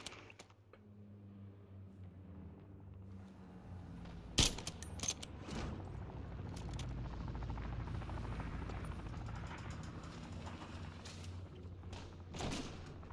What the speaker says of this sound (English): Oh, I just sniped somebody out of the helicopter